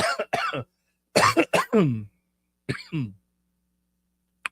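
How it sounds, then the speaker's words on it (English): A few dry, harsh coughs come in short clusters with pauses between, close and fairly quiet, with no talking. "It's a dry cough."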